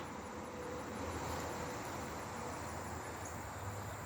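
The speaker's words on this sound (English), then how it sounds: "I know y'all can hear the interstate in the background" A steady, faint wash of distant interstate highway traffic heard from a garden, a continuous roar with no voices.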